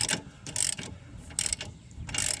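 Ratchet wrench clicking as it loosens a rust-seized bolt on the rear upper control arm of a 2000-2015 Ford Focus, close, crisp bursts of rapid clicks repeating in a steady back-and-forth rhythm.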